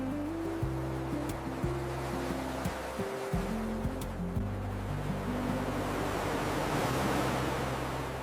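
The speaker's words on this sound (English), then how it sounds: "Listen to the waves. They sound very peaceful." Ocean waves washing onto a beach, a soft steady surf roar with gentle swells, fairly quiet and continuous with no talking.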